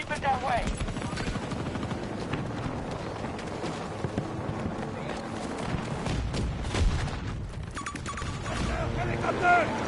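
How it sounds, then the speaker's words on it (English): In the video game Battlefield 2042, a helicopter's rotor throbs loudly and continuously amid battle noise with gunfire and booms, while voices shout over the din. "Helicopter! Quick!"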